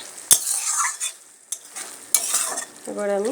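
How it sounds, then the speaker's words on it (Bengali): Water lily stems and lentil curry stirred in a pot, with a spoon scraping and clinking against the metal at irregular moments under a short spoken remark. "ডালটা দেওয়ার পরে আমি ভালো করে মিশিয়ে দিলাম।"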